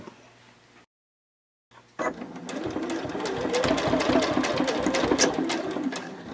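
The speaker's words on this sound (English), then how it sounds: "This is a nylon zipper, and I know that my machine can handle it, so I'm going to sew straight over it." A sewing machine stitching straight over a nylon zipper while sewing a quilted boxy bag with French seams runs as a loud, steady mechanical whir. It follows a short silence and has rapid needle clatter throughout.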